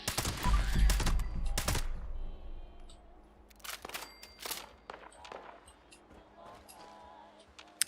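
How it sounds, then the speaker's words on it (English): Enemy gunfire in the video game Fallout 76 crackles in a dense burst of rapid shots during the opening two seconds, followed by scattered, sharper single reports and short volleys further off. "I heard the gunshots going off"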